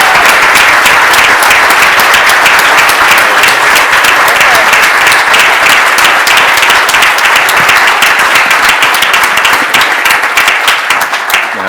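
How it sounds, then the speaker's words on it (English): Loud, sustained applause from a large audience at a New York City event, a thick wash of many hands clapping continuously for the whole stretch, tapering only slightly at the very end. "join me in a big hand of applause for Ray"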